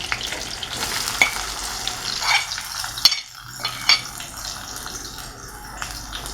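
Chopped garlic and onion fry in a pan with a close, crackling sizzle, punctuated by several sharp metallic clinks and scrapes of stirring. No speech.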